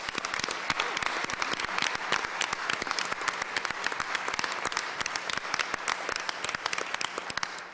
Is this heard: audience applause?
yes